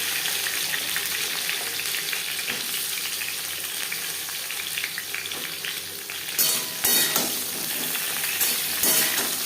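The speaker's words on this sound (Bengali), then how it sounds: "ফোড়নের সাথে পটল বেশ ভালো করে মিক্স করে দেবো" Pointed gourd stir-fried with spice tempering in refined oil: a steady broadband sizzle with scattered scraping stirs, growing louder and more clattery toward the end, no talk.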